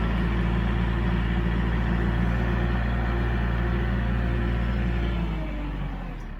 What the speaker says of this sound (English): So when I back up, you can see how it turns the RPMs up for me.